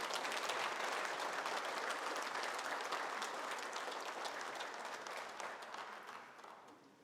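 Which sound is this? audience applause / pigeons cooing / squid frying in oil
audience applause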